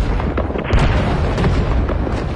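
Artillery shelling during the Lam Sơn 719 campaign on Route 9 in southern Laos rumbles as dense, loud, continuous booms and bursts, a heavy low barrage without speech.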